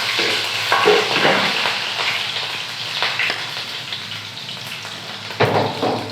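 Chopped green chillies hit hot oil in a pan, giving a loud, steady sizzle and crackle with spoon stirring, and no voices over it.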